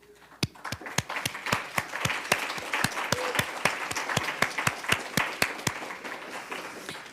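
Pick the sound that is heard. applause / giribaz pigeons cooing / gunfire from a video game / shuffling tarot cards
applause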